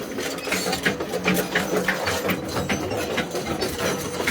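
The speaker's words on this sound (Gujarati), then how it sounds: "આ મશીન નીચે ઉતારવાની ટ્રેસ કરે જો" A mining machine being lowered at an illegal quarry site in Gondal, heard as a steady, loud mechanical rattle and whir that runs without pause throughout.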